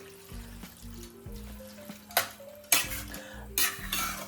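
Red sauce spaghetti is stirred and tossed in a pan, with close scraping, clinking and sizzling-like bursts of noodles and utensil moving against the pan, no talk.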